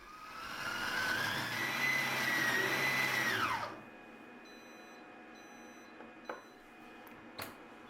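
A Compact Cook Elite food processor chops a kimchi mixture with cooked rice, its motor whirring loudly with a rising whine for a few seconds before stopping abruptly, followed by quiet beeps and small clicks.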